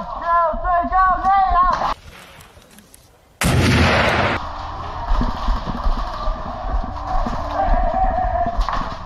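An airsoft grenade bursts with a loud, sudden blast amid airsoft gunfire during a game, following a stretch of mixed noise and voices, with a sustained roar and rattling after the bang.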